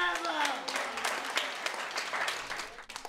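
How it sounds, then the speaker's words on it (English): Audience applause at a music concert held in a nursing home in Manhattan, New York, a dense patter of clapping for about three seconds, moderately loud and steady before tapering off near the end. "The audience applauds the performance."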